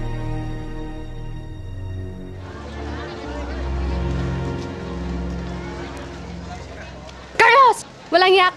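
A steady wash of rainfall hisses throughout a dramatic scene, holding a constant level under low music and a few voices, with a couple of sharp louder bursts near the end.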